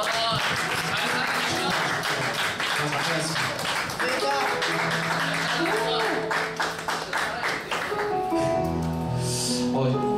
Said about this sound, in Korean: 우리 서로 잘 살아냈다는 의미로 축하해 서로에게 박수를 한번 보내드릴까요?